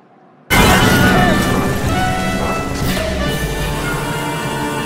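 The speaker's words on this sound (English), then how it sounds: "I fire a bazooka in PewDiePie." A bazooka fires in the video game Grounded: a sudden, loud blast after a brief quiet moment, then a dense, sustained rumble of explosion and debris that stays loud to the end.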